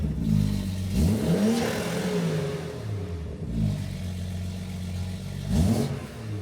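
Car engine with a cheap AliExpress aftermarket exhaust, compared against a BMW 840i and running cold, revving loudly in several rising and falling bursts with a deep droning rumble between them.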